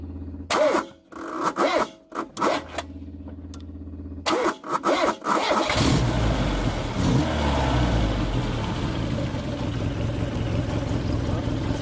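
Peugeot 205 engine coughing through uneven bursts and stutters as it tries to start, then catching and running steadily with a rough, loud idle and revving, close by.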